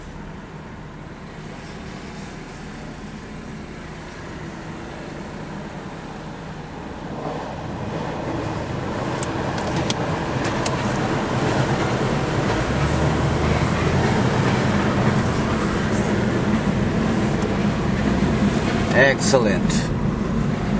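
A Nissan Skyline R34 GTT with a Tiptronic automatic gearbox drives on the road, and cabin road and engine rumble swells steadily as the car gathers speed. Someone talks briefly.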